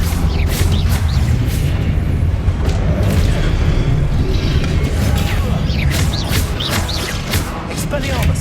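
Spell blasts in the video game Hogwarts Legacy: loud, booming magical explosions with crackling bursts and mechanical rumbles, firing repeatedly over a dense, continuous low-end roar with game voice lines mixed in.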